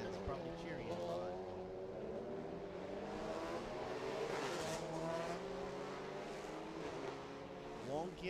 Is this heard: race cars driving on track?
yes